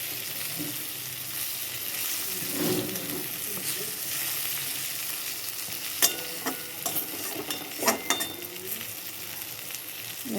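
Eggplant slices fry in a pan for a Bengali fish curry, giving a steady close sizzle with scraping stirs and a few sharp utensil clinks near the end.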